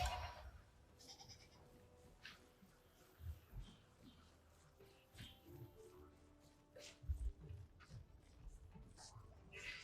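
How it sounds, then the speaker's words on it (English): Sheep bleating in the Warframe Duviri Paradox video game, several short bleats scattered over a quiet game soundscape with intermittent thuds and effects. "Am I really just gathering sheep?"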